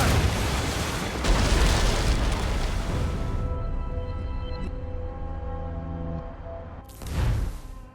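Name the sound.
ship cannons firing, from video game Assassin's Creed Rogue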